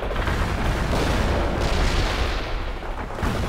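Continuous game battle din from The Third World War: booming artillery fire and explosions layered densely over a steady roar, loud and sustained with no distinct gaps.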